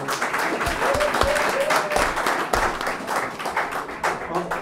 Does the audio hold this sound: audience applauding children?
yes